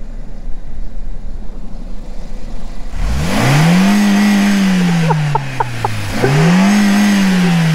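A Ford's engine starts and revs loud and close, climbing to a sustained roar, dipping briefly, then surging again in a second rev; no voices over it.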